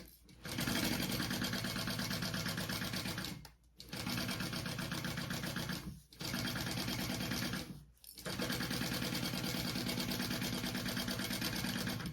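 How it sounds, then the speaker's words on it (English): A sewing machine stitches the lining of a bag pocket, running in long, loud, steady bursts that are broken by three short pauses. "we're going to sew that along the top"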